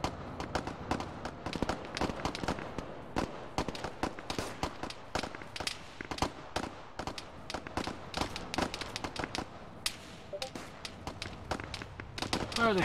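Airsoft gunshots crack in rapid, irregular volleys throughout, some close and sharp, others farther off, with people talking underneath.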